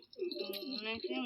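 Pet pigeons, a pair among several being handed over, coo in soft low repeated notes close by, with a voice partly over them throughout the short stretch.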